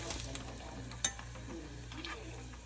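Fish cutlets frying in hot oil give off a steady low sizzle with a single sharp crackle near the middle, heard close up with no talking.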